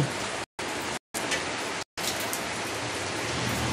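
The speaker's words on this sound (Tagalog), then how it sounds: "lakas ng ulan" Heavy rain pours steadily in a dense, loud hiss, interrupted by a few brief silent gaps.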